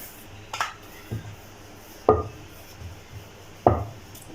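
A knife cutting a sheet of rolled shankarpali dough on a board, giving a few separate, fairly close knocks and scrapes spaced over a few seconds against a quiet background.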